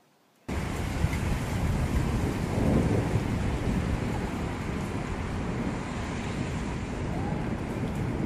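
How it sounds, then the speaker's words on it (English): Steady heavy rain falls outdoors, a dense, even hiss that starts abruptly and holds loud and unbroken for the rest of the stretch, with no voices. "you can see the raindrops falling"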